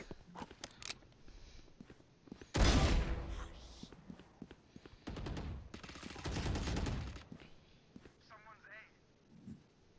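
Gunfire in the video game Valorant, with clicky single shots early on and two loud, sustained bursts of rapid fire, followed by a few electronic chirps.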